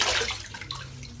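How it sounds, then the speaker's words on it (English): Cold water splashes and trickles briefly into a basin while preparing a shaving lather with a brush and soap, a short close watery gush fading to drips. "Good splash of cold water."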